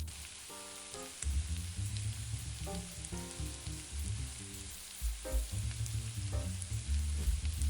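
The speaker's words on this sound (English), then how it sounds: "Now take 2 large shallots that have been thinly sliced, and add them to the pan that was used to sear the shrimp." Thinly sliced shallots sizzle and fry in the pan used to sear shrimp, a steady close crackle with stirring clatter, swelling louder after a brief pause, no talk.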